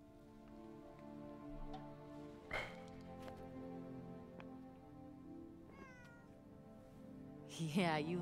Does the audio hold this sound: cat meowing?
yes